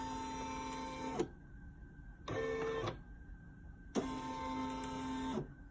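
A Brother PE800 embroidery machine starts stitching with a rapid, steady mechanical chatter that runs in three bursts separated by brief quieter gaps, close and without talking.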